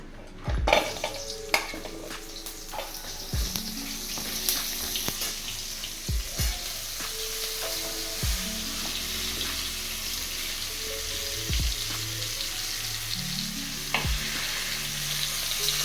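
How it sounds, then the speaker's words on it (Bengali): Sliced pointed gourd (potol) dropped into hot oil crackles and sizzles steadily, while pans clatter and utensils knock now and then close by. "পটলগুলোকে এবার ছেড়ে দিলাম তেলের উপর।"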